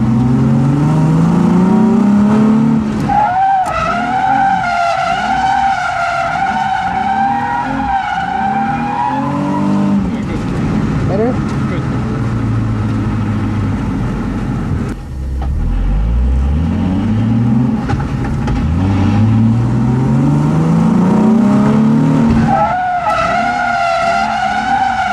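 A drift car slides around a corner with sustained loud tire squeal over a high-revving engine, the pitch rising and falling as the throttle changes, close and continuous.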